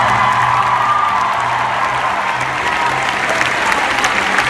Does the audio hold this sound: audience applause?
yes